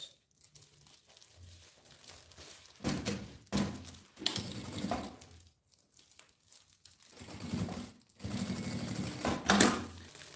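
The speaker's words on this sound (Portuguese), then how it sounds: "E aí eu vou costurar aqui, então, esse viés." A sewing machine stitches bias binding onto a thermal lunch box, running in several short bursts of fast mechanical whirring separated by quiet pauses with fabric rustle, no voices.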